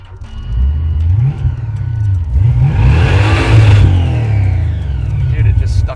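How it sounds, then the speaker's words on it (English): A classic muscle car's V8 roars close and loud with the throttle stuck wide open and no rev limiter, the engine climbing and wavering at high revs while people talk over the noise. "Dude, it just stuck the throttle open."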